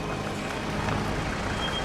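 Reversing beeps from a vehicle in the horror video game Outlast, a steady high electronic tone running over a dense, noisy engine rumble for a couple of seconds.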